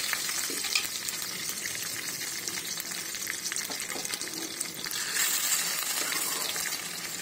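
Mustard seeds, cumin, dried red chillies and curry leaves sizzle in hot oil for a tomato pickle tempering: a dense, continuous crackle with scattered pops, close and alone.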